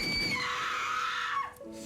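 Screams in a horror video game: a single shrill, sustained scream gliding downward and cutting off, close and loud over a low background.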